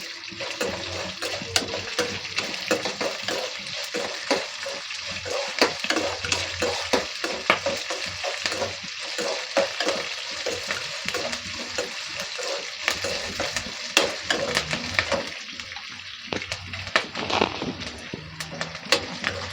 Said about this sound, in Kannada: ಕಡಲೆಬೇಳೆ, ಉದ್ದಿನಬೇಳೆ, ಸಾಸಿವೆ, ಕರ್ಬೇವಿನ ಸೊಪ್ಪು ಹಾಕ್ತಾಯಿದ್ದೀನಿ